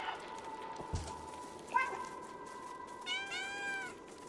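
A cat meowing in the video game Stray, a few rising and falling mews against quiet game ambience, with a brief thump early on.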